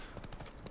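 A horse's hooves clip-clop in a steady trotting rhythm within The Witcher 3: Blood and Wine game world, a soft, brief burst of hoofbeats set against a dense ambient background.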